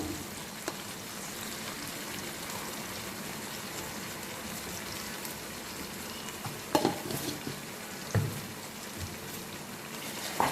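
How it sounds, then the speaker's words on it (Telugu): Ginger garlic paste frying in hot fat in a pan, a steady close sizzle with occasional stirring knocks and scrapes rising toward the end, no talking. "అల్లం వెల్లుల్లి పేస్ట్ కూడా బాగా నూనెలో వేగాలి కదా"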